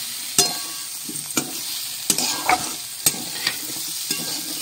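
Ground poppy seed paste goes into a hot wok and gets stirred, giving sharp scraping strokes at irregular intervals over a soft steady sizzle, near and alone with no talk.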